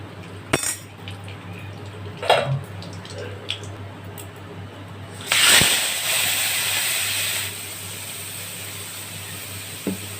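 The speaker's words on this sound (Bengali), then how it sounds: "তেল দিয়ে দিচ্ছি, আমি মাছটাকে ভেজে নেব, চিংড়ি মাছগুলো।" Shrimp go into hot oil in a pan: after a few clinks and drips, a sudden sizzling hiss bursts up and keeps crackling steadily at close range, with no talk.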